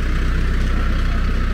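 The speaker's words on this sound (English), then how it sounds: "the tractor should be warmed up now" A low, steady tractor idle sits close by as the engine warms up, a constant pulsing drone with no change in pace and no voices.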